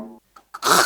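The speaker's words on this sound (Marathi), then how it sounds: "मी खाकरलो" A man clears his throat on a Marathi comedy stage: a short voiced sound followed by a brief catch and then a harsh, raspy burst, close and fairly loud, all within about a second.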